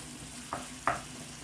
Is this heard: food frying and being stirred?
yes